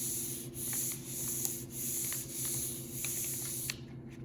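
Glued paper reindeer craft pieces rubbed by hand onto paper, a soft steady scuffing friction in repeated strokes, close and continuous with brief pauses, no talking.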